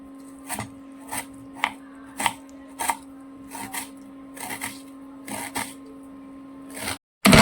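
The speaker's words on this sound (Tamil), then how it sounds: "ஒரு வெங்காயம் வந்து பொடியாக நெருக்கிக்கிறோமா பொடியாக நெருக்கிறோம் ஒரு வெங்காயத்தை" A knife finely chops an onion on a board in a string of quick, evenly spaced taps, close and moderately loud, over a faint steady hum.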